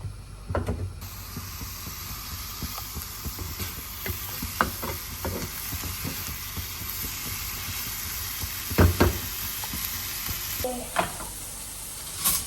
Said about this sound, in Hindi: तो ना अच्छे से आपने इनको सॉटे कर लेना है.